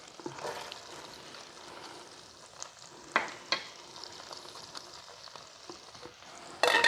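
Chopped green onions sizzle in butter while being stirred for colcannon, a steady low frying hiss broken by a few sharp scraping clinks of the spoon, with a louder clatter right at the end.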